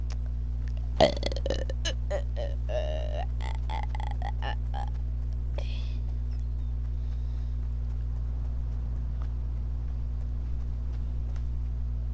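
A long, loud gurgling burp stretches across several seconds near the start, then trails off into a quiet steady hum with nothing else following.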